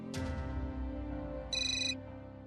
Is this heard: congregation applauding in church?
no